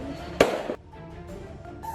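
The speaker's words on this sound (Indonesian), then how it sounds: "suara lemparan batu dan petasan yang mengenai gerbong" Thrown stones and firecrackers strike a train carriage during a brawl beside the rail line near Tanjung Priok and Ancol, one sharp loud bang followed by softer scattered knocks and rattles.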